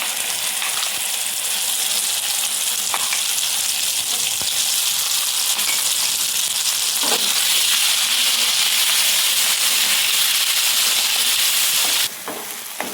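Cumin and a ground masala paste fry in hot oil for a hotel-style mushroom dish, a loud, dense, continuous sizzle with a few faint stirring clicks. It drops away sharply near the end.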